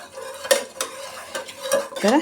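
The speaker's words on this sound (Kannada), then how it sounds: "ಇವಾಗ ಒಂದು ಸೌಟಲ್ಲೇನೆ ಈ ಥರ ಮಿಕ್ಸ್ ಮಾಡಿ ಸೇರಿಸ್ಕೊಂಡ್ರೆ ಆಯಿತು ನೋಡಿ" A ladle stirring mashed dal for hirekayi masksaayi (ridge gourd mash) clinks and scrapes against the pot in a few separate strokes, moderately close, with no talking.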